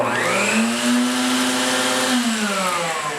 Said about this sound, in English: So this vacuum here is controlled here, and there's an on-off switch.